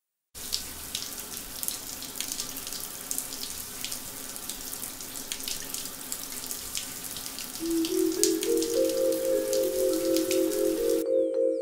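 Water running steadily from a shower, a constant close spray and patter that continues throughout, joined near the end by a rising tonal whistle before cutting off.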